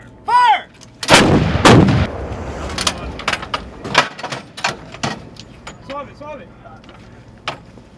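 An artillery gun fires in military combat training. A single very loud, close blast is followed by a long rumbling decay, then metallic clanks and handling noises. Shouted commands come before and after the shot.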